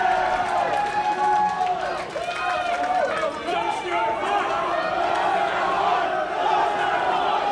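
A wrestling arena crowd roars and chants continuously during a live match, loud and sustained, with shouts rising and falling throughout.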